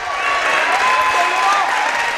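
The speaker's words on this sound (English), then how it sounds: "Crowd getting excited." A basketball crowd at a boys' under-18 game roars and claps after a putback, a sustained loud wash of cheering and whistles with no break.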